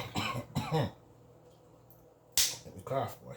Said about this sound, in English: Let me cough, boy.